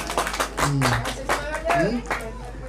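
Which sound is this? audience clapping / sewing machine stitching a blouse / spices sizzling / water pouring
audience clapping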